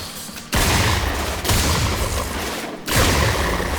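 Weapon alt fire in Warframe unleashes dense, loud bursts of rapid gunfire, three sustained volleys separated by brief gaps, each a roaring wall of shots with heavy low-end thump.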